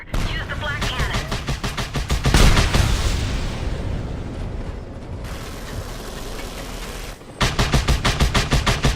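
Flak cannon in the video game Just Cause 2 firing at a hostile helicopter, loud rapid rhythmic bursts of repeated shots with booming impacts, a pause with sustained roar, then another fast volley.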